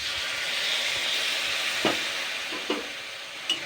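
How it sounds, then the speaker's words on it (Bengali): Half a cup of water poured into a pan of frying sweet pumpkin, a loud steady hissing sizzle up close, with a few small utensil taps and clicks toward the end and no talk. "এবার আমি জল দিয়ে দেবো, জল দিয়ে কুমড়োটা সুন্দর করে সেদ্ধ করবো।"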